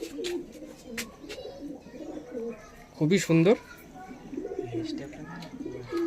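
Two male tournament pigeons are kept as a hobby. One distinct burst of throaty cooing rises midway, close and fairly loud, while someone talks quietly before and after it.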